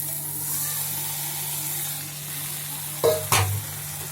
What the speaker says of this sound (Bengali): হালকা জল দিয়ে দিয়েছি।